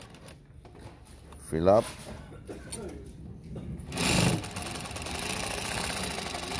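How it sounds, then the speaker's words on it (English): A New-Tech GC-8B industrial sewing machine stitches through eight layers of denim, giving a steady mechanical whir that picks up partway through. A person talks briefly near the start. "Now I'm gonna double that, meaning I'm gonna go through about eight layers of denim"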